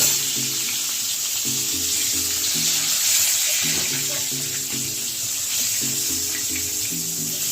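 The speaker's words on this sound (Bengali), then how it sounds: "পটল লাল ভাজা হয়ে গেছে" Pointed gourd (potol) frying in oil, a continuous bright sizzle with rhythmic clinking or stirring knocks underneath, close and steady.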